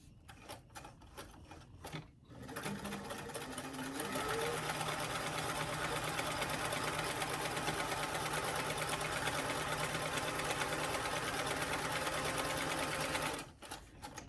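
A sewing machine stitching the side seam of a doll dress, a fast, steady mechanical whirring hum that starts after a few short bursts and runs continuously for about eleven seconds before stopping abruptly, close and loud.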